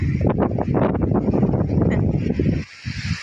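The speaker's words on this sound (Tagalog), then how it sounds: "Ang lakas ng hangin." Strong wind roars and buffets the microphone in heavy low rumbling gusts among coconut trees on Banton island, Philippines, then briefly drops off before gusting again.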